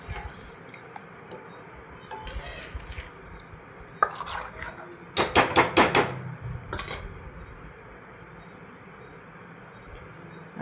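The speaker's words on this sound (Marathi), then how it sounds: "असं छान मी मिक्स करत आहे." Shrimp stirred with masala in a pan, with a short burst of clattering scrapes midway amid long quiet stretches and faint insects chirping in the background.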